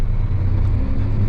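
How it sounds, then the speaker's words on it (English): A four-wheeler ATV on a farm, a steady loud low engine rumble that holds even throughout without voices. "Here she comes on her four-wheeler"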